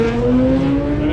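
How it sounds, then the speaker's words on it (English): Isle of Man TT race motorcycles heading out on the sighting lap, a loud close engine drone with steady sustained pitch tones, slightly rising as they pull away. "So they're going out on the sighting lap now, an hour before they race."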